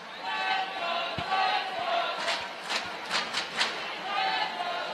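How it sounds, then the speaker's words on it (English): Roller derby crowd in Montreal during a bout between the Montreal Sexpos and Philadelphia Independence Dolls, a steady arena roar with scattered shouts and whistles swelling in bursts, heard from within the stands. "Another good crowd here in Montreal again."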